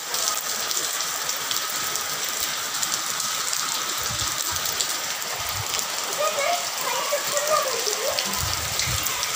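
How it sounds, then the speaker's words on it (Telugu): Rain falls in bright sunshine, a steady close hiss of drops pattering on surfaces throughout, with a few low bumps and faint background sounds. "వాన పడుతుంది,"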